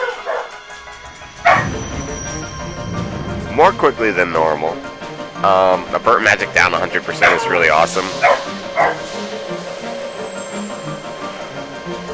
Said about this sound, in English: Sorry about the dogs, you guys. They just bark at stuff.